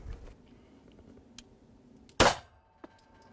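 A single sharp, loud firearm shot cracks out at a shooting exam, followed by a fainter click or knock. Quiet shuffling fills the rest of the clip and no one speaks.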